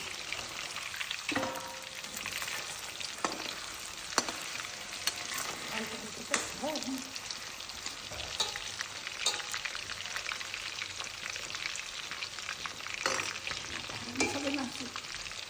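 Homemade chicken achar frying in a pan while being stirred, with a continuous close sizzle, scraping stir strokes and occasional clatters throughout, and no talking.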